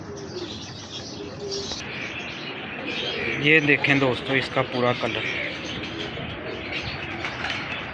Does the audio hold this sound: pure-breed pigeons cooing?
yes